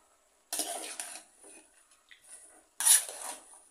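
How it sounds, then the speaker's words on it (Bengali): Leafy chechi shak greens are stirred in a pan, giving two bursts of dry rasping scrapes separated by quieter, sparse rustling and scraping. "নেড়ে চেড়ে দিব ভালোভাবে"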